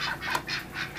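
Several ducks quack in quick succession inside a dark coop, a rhythmic series of nasal calls at moderate volume with no talking.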